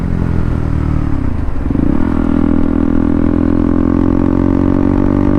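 A motorcycle engine drones steadily at close range, its pitch dipping briefly and then settling into a sustained, loud hum as it rides along.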